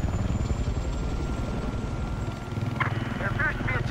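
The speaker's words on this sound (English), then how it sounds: "We've got their transport chopper." A transport helicopter in the video game Battlefield 4 thumps steadily beneath continuous engine drone, with voices cutting in over the noise toward the end.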